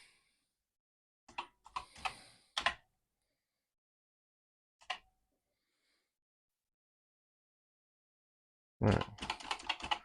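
Keys on an old, faulty Commodore PET 4016 keyboard being pressed in short clattering bursts separated by long silences, close and clear, with a single brief spoken word.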